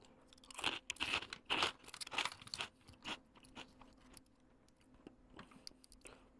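Crisp, close crunching of a light, slightly sweet seeded snack, tiny enough to eat a few at once. Several sharp bites come in bursts early on, then quieter chewing follows with no talking.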